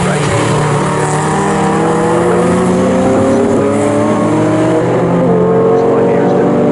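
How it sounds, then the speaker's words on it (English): Mazda race car rejoining a circuit race at Snetterton, its engine droning and rising in pitch steadily over a continuous mix of other racing engines, with commentary voices running underneath. "The Mazda rejoins the race."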